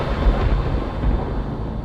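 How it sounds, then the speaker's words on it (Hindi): A thunder clap sound effect in a Hindi horror story, heard as a loud, rumbling low roar that rolls on steadily for the whole short stretch, with no voice. "जैसे ही उसने ये कबूल किया, एक जोर की बिजली कड़की"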